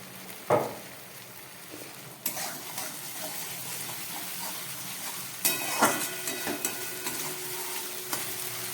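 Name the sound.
katla fish with eggplant sizzling in mustard oil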